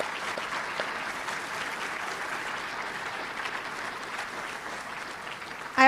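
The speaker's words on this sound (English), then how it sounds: "let's start off by giving you a round of applause for making it through all of it" Sustained applause from a graduation ceremony audience honoring the graduates, an even, dense crackle of many hands clapping that holds steady for several seconds at moderate volume.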